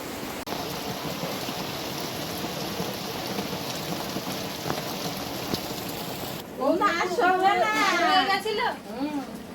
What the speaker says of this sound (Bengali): র্যান্ডাম বৃষ্টি চলছে